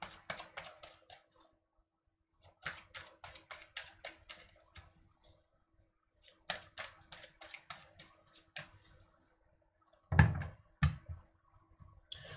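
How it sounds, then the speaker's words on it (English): Tarot cards being shuffled by hand in a quiet room, heard as repeated bursts of crisp riffling and flapping close by, in several short runs separated by pauses, ending with a couple of louder knocks. "Okay, so now shuffling,"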